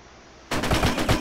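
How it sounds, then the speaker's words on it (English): In WWII Online, a rapid burst of gunfire aimed at the player erupts suddenly after near-silence, with several loud, close cracks in quick succession. "How'd you shoot me around the corner like that?"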